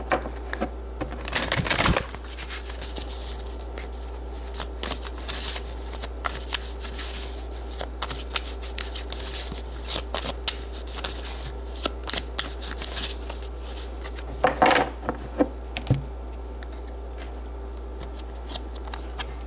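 Tarot advice cards are shuffled and pulled with a crisp riffling flurry near the start and another burst later, set between long quiet stretches without speech.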